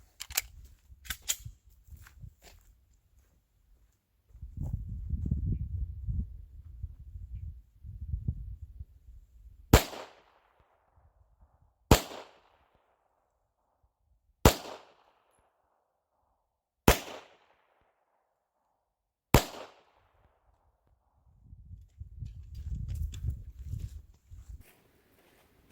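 An X5 Legion gun fires five sharp, evenly spaced shots about two and a half seconds apart, each a crisp loud crack, with soft handling rustle before and after.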